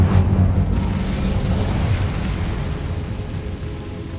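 Incendio fire spell cast in the video game Hogwarts Legacy: a loud, close burst of flame that swells into a heavy roaring rumble and then holds steady, slowly easing off.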